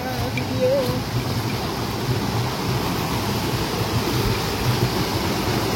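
A small, very clear river flows on Mount Leuser, a steady broadband rush of water running close and constant throughout.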